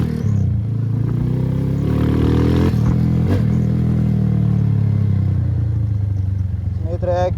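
A rebuilt, modified Suzuki Fiero motorcycle engine runs loud and close, its droning note rising and falling through revs while someone talks excitedly over it.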